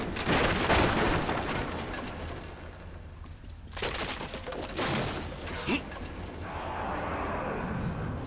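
Heavy shotgun blasts and booming gunfire in the video game Metro Exodus, loud and dense, with sustained roaring noise punctuated by sharp bursts.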